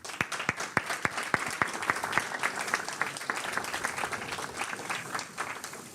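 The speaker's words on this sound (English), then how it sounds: "Big applause for you and big applause for the jury as well" Audience at a demo day applauding presenters and jury, several distinct loud claps up front settling into steady, moderately distant applause.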